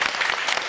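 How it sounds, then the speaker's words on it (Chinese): Studio audience at a Taiwanese variety talk show bursts into brief, dense applause, a short continuous wash of clapping with no voices over it. "所以为你们拍手"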